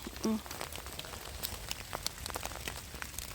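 Rain patters on leaves and ground in a German forest in winter, scattered drops ticking close by over a soft steady wash, with a brief voice-like sound early on.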